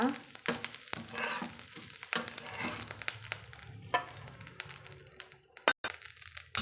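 Tomato dosa batter sizzles and crackles on a hot pan, a steady frying hiss with scraping and stirring knocks scattered through it, and one sharp clatter near the end.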